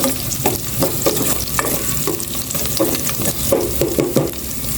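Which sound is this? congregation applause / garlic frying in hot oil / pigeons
garlic frying in hot oil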